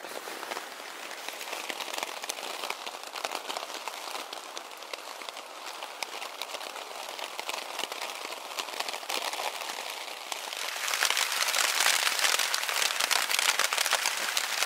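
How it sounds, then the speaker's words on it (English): Steady rain falls on a blustery morning at a lakeside canoe camp, a dense constant patter that grows louder and harsher in the final few seconds, with no voices. "It is a blustery, rainy morning."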